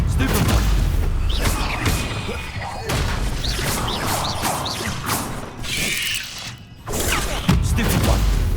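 Fire-spell explosions burst repeatedly in a monster-filled house during Hogwarts Legacy combat, dense booming blasts and crashing impacts rolling almost continuously, with a short lull near the end before another hit.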